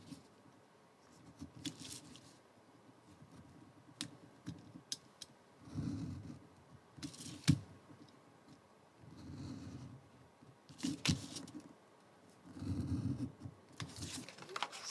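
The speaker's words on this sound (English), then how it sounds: "I'm going to come down with a knife." Craft knife cutting out paper or card panels for tree decorations, a sequence of soft scraping strokes and small clicks and taps in irregular bursts, close and quiet with pauses between cuts.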